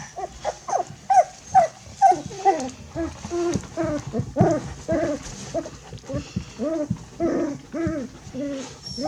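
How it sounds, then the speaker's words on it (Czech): Puppy barking in a home, a rapid series of high yips and whimpering barks close by, with a person talking softly in between. "Ale na maminku štěkáš?"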